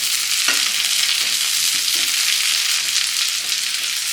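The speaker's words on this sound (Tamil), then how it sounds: "இன்னும் நல்லா ஃப்ரை ஆகும்," Chicken lollipop pieces frying in refined oil in a home kitchen, a steady bright sizzle throughout with occasional soft stirring knocks, close and loud, no talking.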